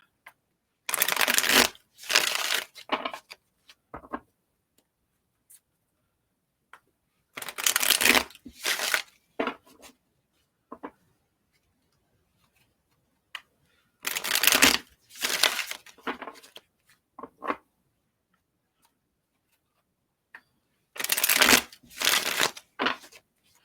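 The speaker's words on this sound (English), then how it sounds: "something about shuffling cards is therapeutic" Four separate bursts of cards being riffle-shuffled up close, each a quick flurry of flapping clicks with quiet pauses between.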